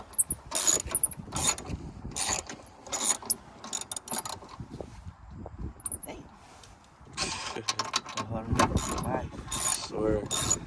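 A ratchet takes out 10mm bolts at the headlight of a Pontiac Grand Prix GXP, outdoors in the cold. It sounds as close, rapid clicking runs with short pauses and a faint mechanical clatter, and brief talk breaks in between.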